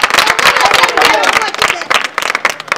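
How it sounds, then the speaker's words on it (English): Audience clapping at a school event: dense, continuous applause with crowd noise, loud and steady, thinning slightly toward the end. "Clap for him."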